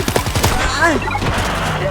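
Rapid bursts of gunfire in the zombie shooter World War Z Aftermath, a quick string of sharp shots up front, then continued game noise and a tonal swoop beneath.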